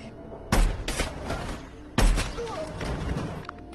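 Two heavy sniper rifle shots boom about a second and a half apart in an action film scene, each with a sharp attack and a rumbling tail, under a narrator's voice.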